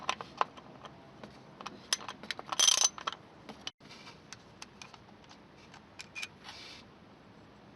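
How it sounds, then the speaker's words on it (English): A 10mm bolt is loosened and removed from a BMW VANOS solenoid: faint, scattered ticks and small metallic clicks of a ratchet close by, with a brief louder rattle midway. "Remove the 10mm bolt here."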